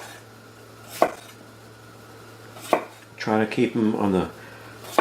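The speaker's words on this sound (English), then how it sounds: "just cut it up into the sizes that I'll be serving it" A knife chops potatoes into serving-size pieces on a board, striking in a few sharp, isolated chops spread out in time, with someone talking briefly between cuts over a low steady hum.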